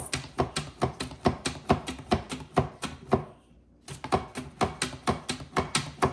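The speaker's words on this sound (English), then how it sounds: "We're just gonna go ahead and slice it." Cucumber sliced on a handheld slicer for a cucumber salad, a rapid, even run of crisp chopping clicks close up, a brief pause, then the same steady rhythm again, with no talking.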